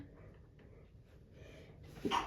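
A quiet room, then a short, sharp sneeze bursts out near the end, louder than what came before.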